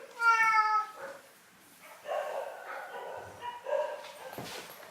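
A cat gives a drawn-out, wavering meow, followed by several shorter meows and whines, close and fairly clear, with a dog present nearby and a faint soft voice.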